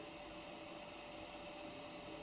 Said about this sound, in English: I'm using simple vacuum cleaner